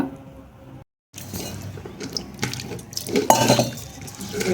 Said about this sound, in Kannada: ಇನ್ನು ಸ್ವಲ್ಪ ಇದಕ್ಕೆ ನೀರು ಆ್ಯಡ್ ಮಾಡೋಣ